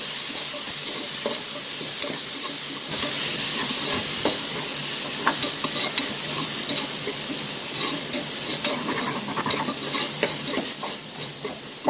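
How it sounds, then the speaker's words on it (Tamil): Chopped tomatoes sauté with ginger garlic paste in a cooker for chicken biryani, giving a steady, close sizzle and hiss with scattered scraping stir clicks that grow busier partway through. "இப்போது வெட்டி வச்ச 4 தக்காளி ஆட் பண்ணி மறுபடியும் அதை வதக்கிக்கலாம்."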